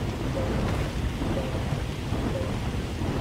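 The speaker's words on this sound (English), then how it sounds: "It sounds like a storm's coming in." A thunderstorm rolls in during Astroneer, a dense, steady roar of rain and deep rumbling thunder filling the whole stretch with no voices.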